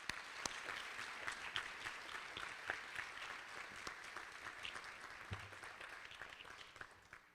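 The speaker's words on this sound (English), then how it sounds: "a round of applause for those operators who have gone above and beyond the call of duty" An annual meeting audience applauds transit operators being honoured, a fairly quiet, even wash of clapping that continues for over seven seconds from a distant-sounding crowd.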